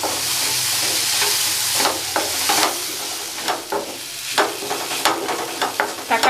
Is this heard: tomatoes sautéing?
yes